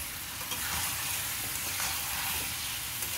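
Half a kilo of chicken sizzles and fries in ginger garlic paste in a pan, a steady loud hiss and crackle with faint stirring scrapes throughout, no voices.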